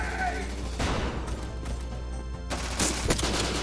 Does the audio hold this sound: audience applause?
no